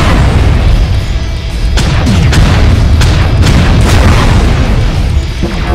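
Loud weapon shots boom in the mech combat game MechWarrior Online, several heavy blasts landing in quick succession over a dense, rumbling battle din.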